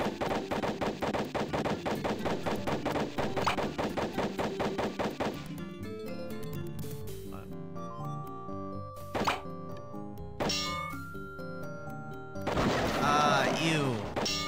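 Gunfire from the LucasArts adventure game Sam & Max Hit the Road comes as a long, rapid burst of loud repeated shots, then scattered single bangs and game sounds, with voices talking over it.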